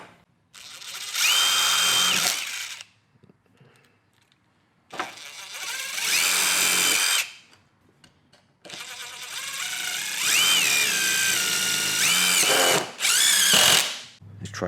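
A drill driving T25 Torx screws with a Dewalt Flextorq impact bit, three loud whirring bursts of a few seconds each separated by short pauses, with pitch shifting as each screw seats.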